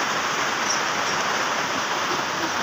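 Heavy storm rain pouring steadily outdoors, a dense, loud, unbroken hiss with no pauses, close and constant throughout.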